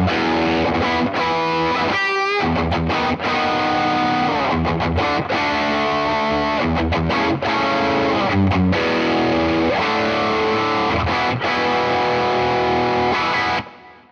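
An electric guitar runs through a J Rockett PXO drive pedal with the treble raised and the bass lowered, playing a loud, continuous distorted riff with sustained chords and quick note runs, close and alone before ringing out at the end.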